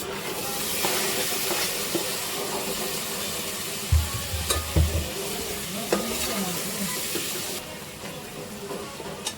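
Tomatoes fry and sizzle in a pan with a steady hiss, stirred now and then with scraping and a few louder clunks as a home-style biryani masala base cooks; no talking.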